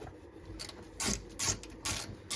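Ratchet clicking as 12mm bolts come off the driveshaft center carrier of a Volvo 240, several short bursts of close, crisp ratcheting separated by brief pauses.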